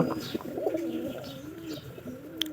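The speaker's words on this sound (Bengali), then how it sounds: "পায়রাটা কিন্তু খড়ের ভিতরে আছে" A white pigeon cooing from inside straw, soft repeated close coos with a few light rustles and a faint chirp, no talk.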